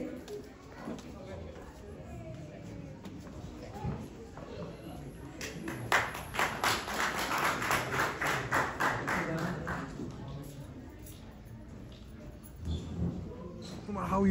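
An audience at a Little Bangladesh press club award event in Los Angeles breaks into a burst of clapping that swells and fades midway, with speech heard over the room before and after.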